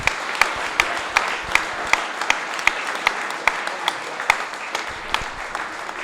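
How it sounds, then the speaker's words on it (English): An audience at a QPR fans' forum applauds for Zach, a dense, steady wash of clapping with sharp individual claps standing out, loud and sustained for several seconds. "A round of applause for Zach."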